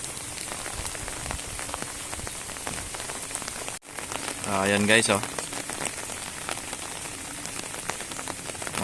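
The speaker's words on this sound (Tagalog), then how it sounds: "Mga magmula nung nakaraang araw yung ulan sa amin, tuloy-tuloy." Heavy, steady typhoon rain pours onto surfaces over rice paddies, a continuous dense hiss with a brief dropout partway through; someone speaks briefly over the downpour.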